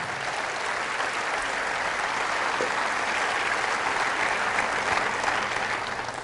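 A congregation at a Catholic church service breaks into loud, sustained applause, a dense steady wash of clapping throughout with no pauses.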